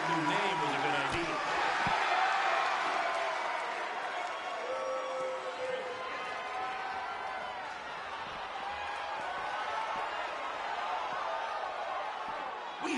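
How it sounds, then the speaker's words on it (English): A sold-out arena crowd in WWE 2K19 gives a steady, full roar of cheering throughout, with a commentator's voice running over it. "We have a sold-out, record-setting crowd here for BCW tonight."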